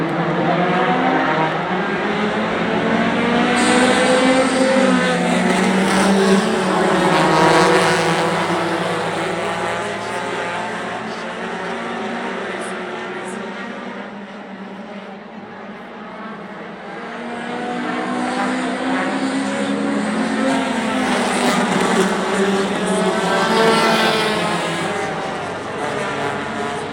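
Race cars roaring around the track at Kalamazoo during the Intimidator 100, a loud, continuous engine drone with rising and falling pitch sweeps as cars pass close by, swelling and fading over about half a minute.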